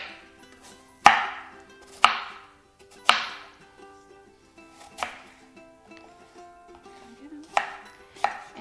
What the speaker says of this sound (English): I've got my knife, and I'm just gonna do some medium-sized slices